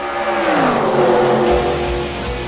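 Race cars roar past in a racing video game set at Talladega, engines loud and close with rising and falling pitch as the pack passes, plus a few low thumps near the end.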